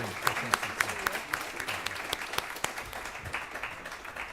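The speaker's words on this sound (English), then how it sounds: "please join me in a round of applause for yourselves" A room of panel attendees applauds a foreign policy panel, a soft, steady round of clapping with sharper individual claps, heard faintly and fairly far off.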